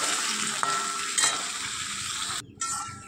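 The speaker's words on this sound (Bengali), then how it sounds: "কড়াইতে তেল দিয়ে আলুটাকে ভেজে নিচ্ছি ভালো করে।" Potatoes fry in oil in a wok with a loud, continuous sizzling hiss, a couple of faint clinks, and a brief sudden drop in the sizzle near the end.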